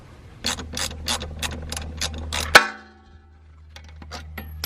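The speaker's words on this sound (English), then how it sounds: "We're gonna have to take this bolt out next" Rapid ratcheting clicks from a ratchet loosening a suspension bolt on a DB1 Acura Integra during a coilover install, a steady run of close, evenly spaced clicks ending in a sharp metallic clunk, then a few scattered softer clicks.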